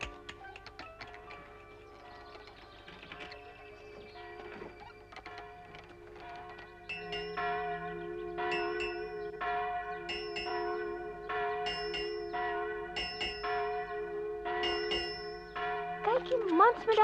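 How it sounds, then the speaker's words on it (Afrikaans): Church bells ring out in a repeating, measured sequence of clear metallic strikes, growing louder partway through with resonant overlapping tones. "En ek hoor klokke lui."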